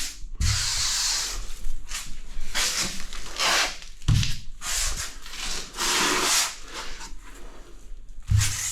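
Rubber squeegee spreading grout across porcelain tiles with narrow grout lines, producing loud, close, repeated scraping and rubbing strokes separated by brief pauses, with no talking.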